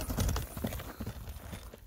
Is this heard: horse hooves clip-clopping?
yes